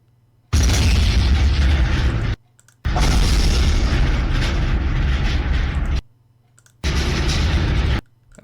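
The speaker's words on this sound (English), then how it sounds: "I'm just gonna make an explosion." A loud synthesized explosion death sound effect built in Roblox Studio fires three times, each a booming, sustained roar lasting about one to two seconds, separated by short silences.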